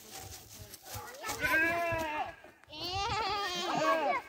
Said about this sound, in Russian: Посмотрели козочек, козликов.